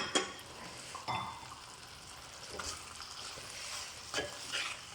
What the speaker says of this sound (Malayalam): നന്നായിട്ടൊരു രണ്ട് മൂന്ന് മിനിറ്റ് ഒന്ന് ഇളക്കി കൊടുക്കുക